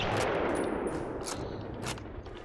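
Machine gun fire in Call of Duty 1, a loud rapid burst of automatic shots near the listener, with a few sharper cracks standing out over the clatter.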